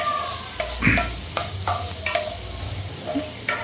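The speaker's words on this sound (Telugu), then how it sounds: "ఈ మిక్చర్ మొత్తం కూడా బాగా వేపుకోవాలి." Semiya upma mixture fried and stirred in a pan, a steady sizzle under scattered scraping strokes of a spoon against the metal, close and fairly loud throughout.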